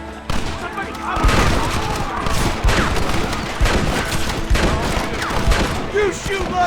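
Rapid gunfire in the Western video game Red Dead Redemption, a dense continuous fusillade of overlapping rifle and pistol shots with booming reports, loud throughout under shouting voices.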